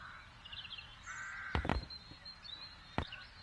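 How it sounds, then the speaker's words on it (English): Crows cawing in the Dark Eye video game: a few sharp, fairly close caws stand out against a steady ambient game background. "Something's wrong with those crows."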